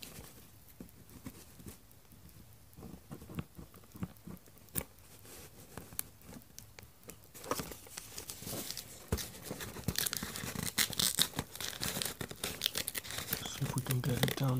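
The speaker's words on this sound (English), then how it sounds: "Snip that piece off." Plastic packaging for an Antsy Labs fidget cube is snipped and torn open, soft crinkling and tearing close by that grows busier and louder toward the end, with a person talking.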